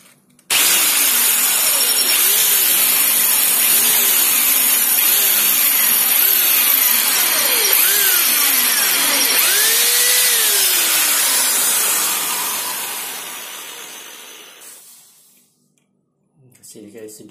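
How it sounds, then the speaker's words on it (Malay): Ordinary electric drill, not a hammer drill, boring into a wall while a water heater is installed, a loud steady whine with the pitch rising and falling as the motor loads, then winding down and stopping. "jangan guna yang ada hammer drill. Pakai drill biasa saja."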